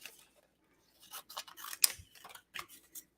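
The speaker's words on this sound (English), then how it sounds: "So that means I need my scissors. And I'm going to go around it." Scissors snip close to the microphone while cutting a paper hat shape out for a handmade stamped card. After a pause come quick irregular clusters of crisp cuts, with no talking.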